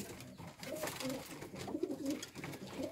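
Homing pigeons back in their loft coo softly in repeated low, throaty calls, close by over a faint rustling background, with a voice briefly present.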